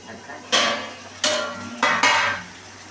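Mutton stirred and braised in a covered pot for Bengali mutton kosha, with four loud metallic scrapes and clatters of a spoon against the pot at spaced intervals, each fading quickly, with no voices.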